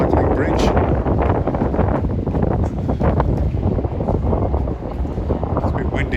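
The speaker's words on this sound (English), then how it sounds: "It's a bit windy over here" Strong wind buffets the microphone on the Kangaroo Point walking and cycling bridge in Brisbane, a loud, steady roar with gusty rumbles running through the whole stretch, and no other sounds standing out.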